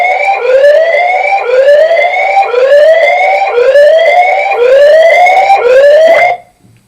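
A CCTV security alarm siren triggered by a door opening wails loudly and close in six rising sweeps, each climbing then restarting, before cutting off abruptly.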